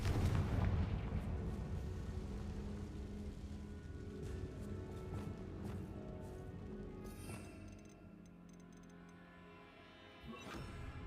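Confringo blasting spell firing in the Hogwarts Legacy video game, several booming blasts and crackling bursts over a rumbling background, loudest at the start with a sharp hit near the end; no talking.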